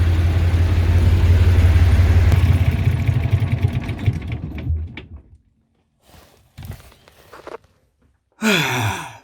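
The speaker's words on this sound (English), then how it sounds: "Not that I mind the sound of that engine, I quite like it actually." A houseboat engine at the seaside in New Zealand rumbles steadily and loudly at first, then fades and cuts out, leaving quiet with a few short clunks and a final burst of noise.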